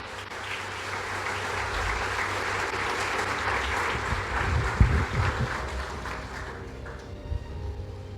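A church congregation applauds during a sermon, a steady wash of clapping from many hands with a few louder bursts near the end, moderately distant.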